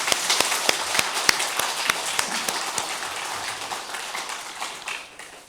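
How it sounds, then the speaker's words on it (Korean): A church congregation applauds the choir after a Sunday service hymn. The sound is a rhythmic, fairly close group clapping with distinct sharp beats that gradually thin and fade toward the end. "이 찬양을 받으실 우리 하나님께 영광의 박수 올려드리도록 하겠습니다."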